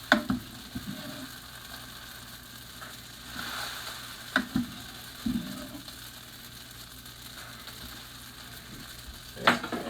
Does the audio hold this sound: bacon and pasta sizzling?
yes